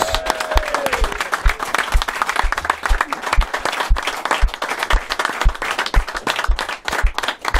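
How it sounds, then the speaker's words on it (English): A studio audience on a TV show bursts into a big round of applause, loud, dense clapping with sharp individual hand claps standing out, continuing steadily throughout. "Give Neil a big round of applause."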